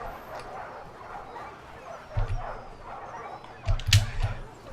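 Dogs in Total War Arena bark and yip in short bursts over a busy battlefield din, with a couple of louder barking flurries toward the end.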